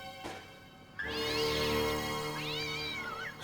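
A cat meows in the Broken Sword: Shadow of the Templars Reforged video game, two drawn-out, rising-then-falling meows close up and alone, the first long and loud, the second following after a short gap.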